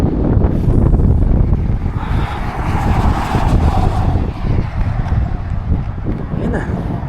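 Strong wind gusting near snowy mountains in Canada, a loud continuous roaring rush buffeting the microphone throughout with no letup.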